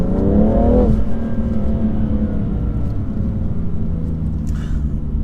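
A 2018 BMW M3 Competition engine roars loudly as it accelerates hard in first gear, the pitch climbing quickly in the first second and then holding a steady, throaty drone.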